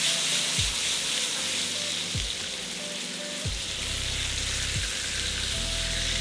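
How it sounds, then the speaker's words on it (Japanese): A supermarket steak sears in a frying pan with steady loud sizzling and crackling fat, punctuated by a few soft scrapes and bumps as it is turned, with no talk. "ひっくり返して、周りはねもういい感じに焼き色ついてきましたね"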